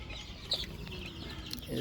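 Fayoumi chicks cluck and peep softly while feeding and moving about, with a few short, faint calls rising over a quiet background.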